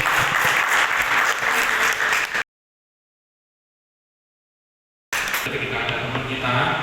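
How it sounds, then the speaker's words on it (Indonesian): Loud audience applause fills the room in a dense, sustained burst, cuts off abruptly into silence, then resumes at full strength for the final seconds. "Oke, beri tepuk tangan kepada Mas Tommy"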